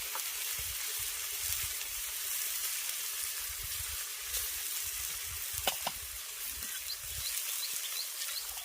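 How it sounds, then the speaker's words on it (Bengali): Chana dal paste and banana flower sauté in hot oil, a continuous close sizzle and crackle with a few soft stirring scrapes and small pops, and no one speaking. "এবার ছোলার ডাল আর মোচাটাকে খুব ভালো করে আমি কষিয়ে নেবো"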